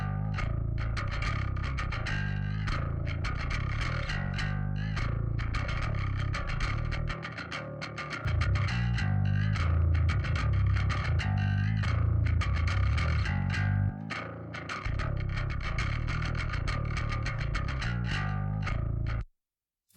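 Compressed bass guitar with its low-end and mid-range channels blended together, playing a continuous, dense riff with a thick, steady low register and a gritty midrange; the notes are even in level, with a brief dip partway through, and the playing stops abruptly.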